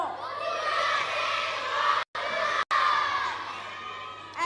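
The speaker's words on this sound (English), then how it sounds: "Now I want you to say Budhia Singh born to run" A crowd of children shouts a movie title in unison at a trailer launch event, a loud, sustained roar of young voices with two abrupt brief dropouts partway through.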